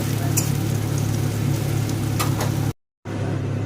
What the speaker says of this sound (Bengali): এবার প্রথমে উচ্ছেটাকে দিয়ে দেব। উচ্ছেটাকে লাল লাল করে ভেজে নেব।